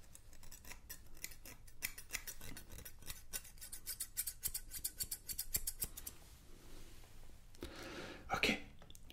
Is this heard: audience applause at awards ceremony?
no